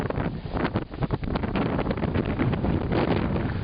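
Strong mountain wind at 3,500 feet in the White Mountains roars and buffets the microphone in heavy, continuous gusts, loud and close.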